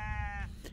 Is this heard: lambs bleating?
yes